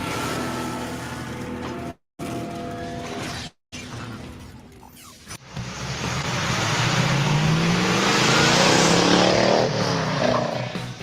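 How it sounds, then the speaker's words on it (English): A 1971 Dodge Challenger muscle car engine rumbles loudly and nearby, then revs up and roars as the car pulls away, with brief cuts early on. "You are looking at a true muscle car."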